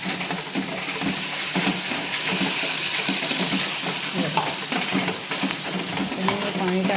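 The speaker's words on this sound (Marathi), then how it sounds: "आता मी त्याच्यामध्ये ना पहिल्यांदा पाणी टाकणार आहे" Water poured into roasted masala paste for a creek fish curry makes a loud, steady rushing splash over hissing sizzle, sustained close up with no pauses.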